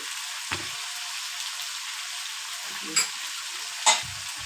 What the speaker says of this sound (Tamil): தக்காளி நல்லா வதங்கட்டும்.